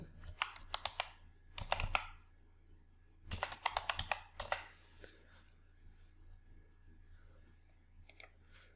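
Fingers typing on a computer keyboard while entering text into an Excel spreadsheet, coming in quick bursts of close, crisp key clicks separated by quiet pauses.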